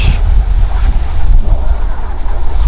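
Loud rushing water of the Parvati River in Himachal roars continuously, a dense low wash of flowing river mixed with wind buffeting the microphone.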